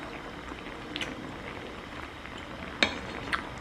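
Tteokbokki rice cakes boiling in a pot give a steady low bubbling simmer, with a couple of faint metallic clinks of a utensil against the pot.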